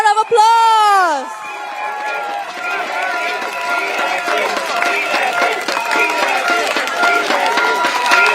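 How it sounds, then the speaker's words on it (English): A crowd at a PAP election rally in Bedok Stadium applauds and cheers, with sustained clapping and voices spreading across the stands after an opening rising whistle-like tone, moderately loud throughout. "A round of applause."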